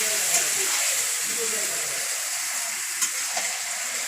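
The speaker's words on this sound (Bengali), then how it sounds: "এখন সেই মশলা মাখানো মাংস কড়াইতে দিয়ে দিয়েছে" Spiced, marinated meat frying in a hot wok, giving a steady broadband sizzle that stays loud and even throughout with a few brief clatters, and faint voices underneath.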